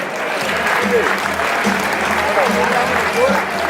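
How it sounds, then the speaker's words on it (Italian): Applause at a ski cup award ceremony, the Coppa Veneto youth ski circuit prize-giving, a steady, dense wash of clapping with voices talking over it throughout. "L'applauso è tutto per lo Ski College Veneto di Falcade."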